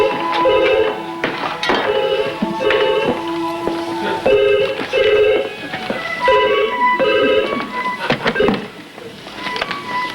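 A telephone is dialed in a domestic scene, with a steady series of short electronic tone bursts sounding one after another close by, broken by a few clicks and knocks.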